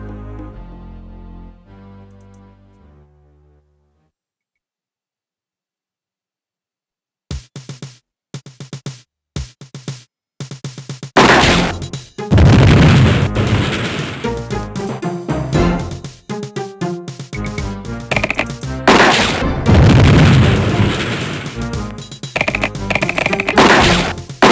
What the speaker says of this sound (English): Freddy was able to blast the Lieber brothers to smithereens